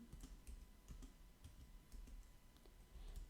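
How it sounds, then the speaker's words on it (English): Quiet, irregular clicks of fingers typing on a keyboard, a quick run of keystrokes at close range with a faint steady hum beneath. "I think I'm typing."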